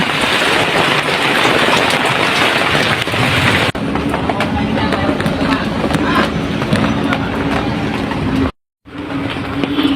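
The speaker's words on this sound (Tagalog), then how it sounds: "Ang dalang ulan guys oh" Steady, dense hiss of heavy rain pouring down close by, continuous throughout with a brief near-silent gap near the end.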